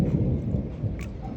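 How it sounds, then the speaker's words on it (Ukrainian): Thunder rolls during a summer rainstorm, a dense low rumble that holds steady for the whole moment without clear breaks, with a faint brighter crackle near the end. "це грім"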